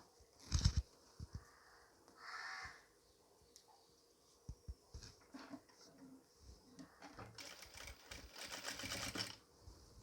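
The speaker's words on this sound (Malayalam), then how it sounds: "ക്രോസ് പീസ് താഴേക്ക് മടക്കി വെച്ച് ഉരുട്ടി ചെറിയ പൈപ്പിംഗ് ആയിട്ട് തയ്ച്ചു കൊടുക്കാം" Domestic sewing machine stitching a narrow rolled piping along a folded cross piece on a nightie neckline, heard in short intermittent bursts of rapid whirring with clicks and handling noise between them.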